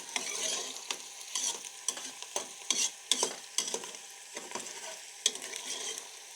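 A spoon scrapes rhythmically through Kashmiri-style white lobia cooking in a pan over a full flame, each stir a short, close scraping stroke over a soft sizzle, with no voices.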